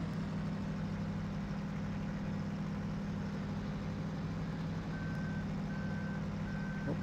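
A truck in Farming Simulator 2013 idles with a heavy, steady engine drone, and faint reversing beeps begin in the last seconds, evenly spaced over the rumble.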